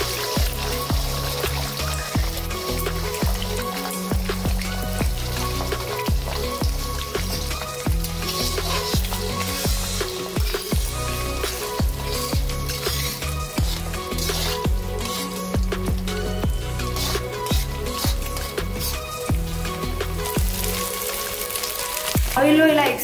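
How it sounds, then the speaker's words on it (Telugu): Eggs fry in a mix of oil and ghee, a continuous close crackle and spatter with irregular popping, joined by intermittent clatter of utensils over a steady low hum. "ఆయిల్ లో ఇలా ఎగ్స్ ని ఫ్రై చేసుకున్న తర్వాత ప్లేట్ లో తీసుకోవాలి."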